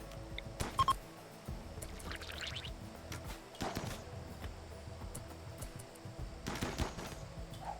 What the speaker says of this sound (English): Just keep gunning them down.